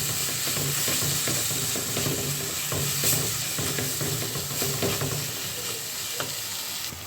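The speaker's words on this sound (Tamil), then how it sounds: "சேர்த்துட்டு இதையும் நல்லா வதக்கி எடுத்துக்கலாம்." Onion, garlic and ginger paste sautés in a hot pan for a chicken gravy, with a loud, continuous sizzle and repeated stirring scrapes close by.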